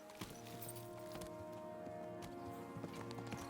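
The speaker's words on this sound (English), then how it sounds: "Is this your first time riding a horse?" A horse's hooves clip-clop at a steady pace while being ridden in the medieval video game Kingdom Come: Deliverance 2, a quiet rhythmic patter over a soft outdoor background.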